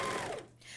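A MyLock 454D serger runs along a 5/8 inch seam in a short, close, steady mechanical whir, with the motor tapering off partway through and no talking.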